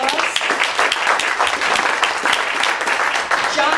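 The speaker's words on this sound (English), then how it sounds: "I want everyone to give John a really big hand of applause." A small audience at a live jazz event claps warmly, a loud, close, continuous patter of many hands lasting a few seconds without a break.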